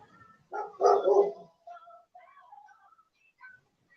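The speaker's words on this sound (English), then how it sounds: "That's why she's barking." A dog barks once or twice nearby in a short, sharp burst, followed by faint high whines or whistling chirps in a quiet setting.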